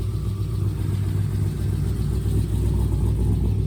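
Swapped-in 6.7L LQ4 V8 in a 2001 Pontiac Firebird Trans Am runs steadily just after its first start, a loud, close, continuous low rumble with a slight uneven lope.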